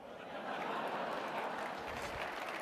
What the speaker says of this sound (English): ignoring the tepid smattering of claps and Gary Johnson laughing at his own joke